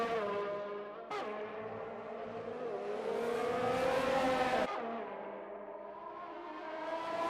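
McLaren and Renault race cars battling at the Canadian Grand Prix, engines roaring close by with rising revs and a car sweeping past, steady and loud throughout.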